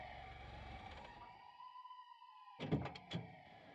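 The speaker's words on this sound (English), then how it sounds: "There's a police car in the alley." A police car siren in a radio drama wails as a rising and falling electronic tone, fading into the distance, then a few sharp clunks like a car door closing nearby.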